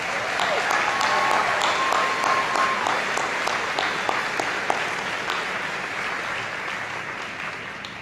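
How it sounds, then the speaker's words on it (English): Sustained applause from a crowd at the 2019 Shawnee High School graduation ceremony, steady and loud throughout, with no talking over it. "Special round of applause for Mrs. Janet Takamoto, Mrs. Judy McHugh"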